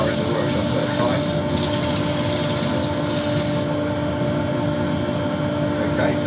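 A wood burr bowl is sanded with 240-grit paper on a lathe, giving a continuous, even rubbing hiss under a steady motor hum, with a few brief scuffs along the way.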